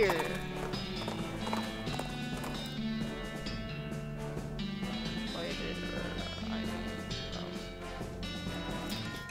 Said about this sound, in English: Go, ghost horse.